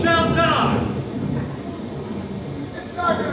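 Thunder and rain play as a sound effect in a church Vacation Bible School Noah's Ark play. A low rumble and a steady wash of rain fill the short stretch, and voices are heard near the start and end.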